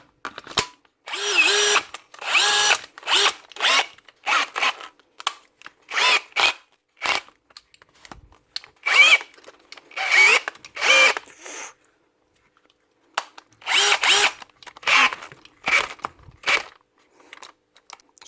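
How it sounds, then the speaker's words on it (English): Hikoki cordless drill with a repaired stripped gear, run in repeated short bursts of high-pitched whirring with brief gaps between them, loud and close, with no talk. "On a Hikoki drill, slip in gear repaired."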